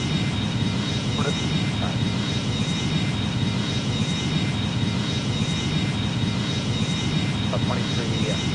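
Boeing 767 jet engines at takeoff power in the Airline Commander flight game, a loud continuous roaring drone that stays steady from start to finish, with faint radio-style voice chatter mixed underneath.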